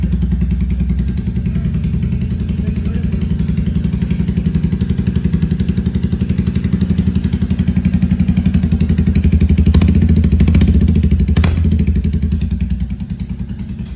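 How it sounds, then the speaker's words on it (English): Very close and loud, a Royal Enfield Classic 350 runs without its silencer. Its open exhaust pounds out a fast, even thumping idle throughout, swelling slightly midway with a couple of brief metallic clicks. "So now we'll hear the sound without the silencer."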